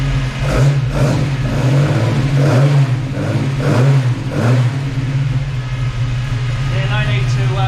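A Hemi Six Pack engine with a solid cam in a Dodge Charger, warmed up and running close and loud, is revved in several quick rhythmic bursts and then settles into a steady, lumpy idle.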